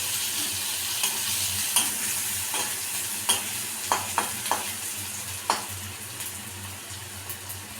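Chopped large onion frying in a pan, a steady soft sizzle with scraping stir strokes and clacks of the spoon coming every second or so, close and moderately quiet.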